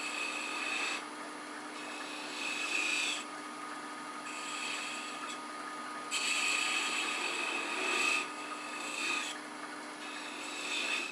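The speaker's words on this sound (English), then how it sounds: "I'm going to come in here with this small 4-inch detail gouge that allows me to go fairly deep" A small 4-inch detail gouge cuts a wooden finial on a lathe, giving a steady rasping, scraping whir in several bursts of a few seconds each, with no talk.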